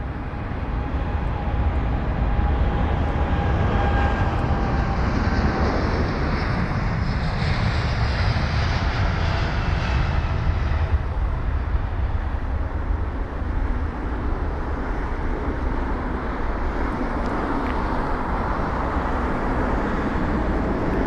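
A Virgin Atlantic Boeing 787-9 Dreamliner, eight years old, taxiing at London Heathrow, gives a steady broad jet engine rumble and whine that holds close and continuous throughout, with faint background airport traffic and no talk.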